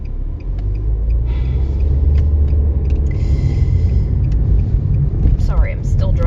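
Steady low engine rumble and road noise from a car being driven, continuous and fairly loud throughout, with a few faint higher squeaks near the end and a voice speaking over it.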